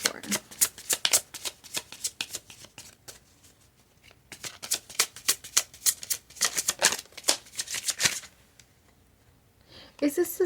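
Tarot cards are shuffled close by in quick bursts of crisp riffling flutters, pausing briefly and then starting again, ending with a few softer handling sounds.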